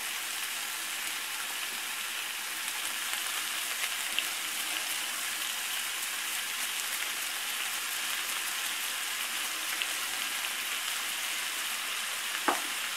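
Onions with salt cook in a pan with a steady, close sizzle that holds evenly throughout, broken only by a few faint ticks and one sharp click near the end.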